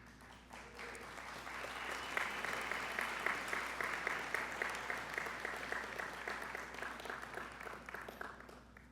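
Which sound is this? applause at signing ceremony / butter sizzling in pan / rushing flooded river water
applause at signing ceremony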